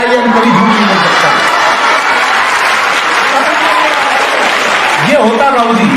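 An audience at a Hindi comedy poetry gathering, a hasya kavi sammelan, breaks into full applause mixed with some cheering and laughter, while someone speaks over it at the start and end.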